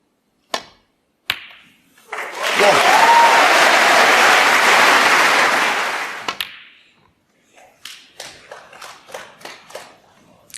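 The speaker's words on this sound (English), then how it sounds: "Yeah, the crowd are certainly up for this." Snooker crowd at the 2016 Masters, Ronnie O'Sullivan against Mark Williams, bursts into sustained loud applause lasting a few seconds, framed by isolated claps before and scattered individual claps trailing off afterward.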